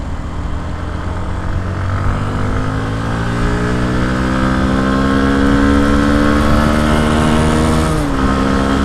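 A Yamaha WR125X motorcycle engine drones loudly and steadily, its pitch climbing gradually as the bike accelerates, with a brief dip near the end; wind noise sits underneath and no one speaks.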